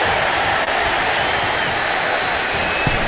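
A wrestling arena crowd in the WWE 2K25 video game roars and applauds, a loud, continuous wall of cheering noise with no breaks.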